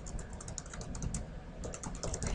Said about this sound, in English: So I can go about typing a title for this presentation